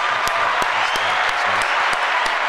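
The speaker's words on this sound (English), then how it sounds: "let me get a clap effects for that." Applause sound effect, a dense, steady wash of many hands clapping at full volume throughout, with a light rhythmic beat underneath.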